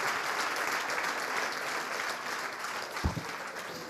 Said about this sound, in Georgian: ეს ტაში ეკუთვნის მე-11 არხს.